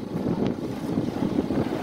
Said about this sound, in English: So it's windy here, but not wavy.